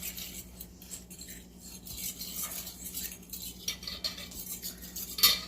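A spoon scraping and clinking around a bowl while bibimbap rice is stirred, a soft, uneven run of close scrapes and taps with no talking.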